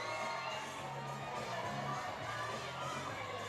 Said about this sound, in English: You see the crowd sort of wanting to get excited, but not getting excited yet